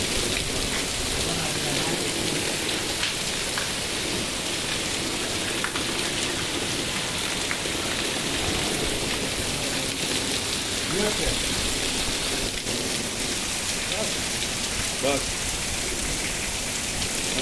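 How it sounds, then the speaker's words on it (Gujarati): Heavy rain pours in Talaja at midday with water running over the road, a loud, unbroken roar of drops and flowing water lasting throughout. "જોરદાર વરસાદ શરૂ તળાજા."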